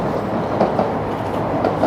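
A local train in Japan rolls along with a steady rumble and faint rhythmic clatter of the wheels, heard close up as from inside or beside the carriage, with no talk.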